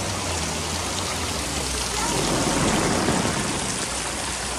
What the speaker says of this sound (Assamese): বৰষুণো বহুত বেছি হৈ আছে